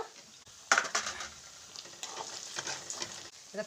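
Spices and coconut sizzle and crackle in hot oil while a spoon stirs and scrapes the pan, with a sharp clink near the start.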